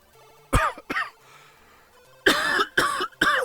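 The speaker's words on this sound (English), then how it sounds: "Sorry, coughing away there." A person coughs in several harsh, close bursts: a pair of sharp coughs, a pause, then three more forceful coughs in quick succession.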